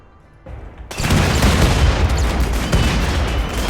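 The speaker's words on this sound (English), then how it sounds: "Holy moly, there is a lot of explosions." Dense battle noise from RimWorld, the colony-sim game, with explosions and rapid gunfire: a low rumble builds, then a loud, continuous barrage of booms and shots roars on without pause and with no voices.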